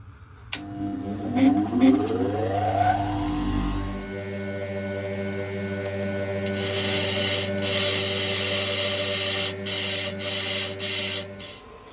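A bench grinder spins up and steel drill bits are ground against the wheel on a Harold Hall grinding rest in a home workshop, a steady motor whine overlaid with loud, intermittent rasping bursts.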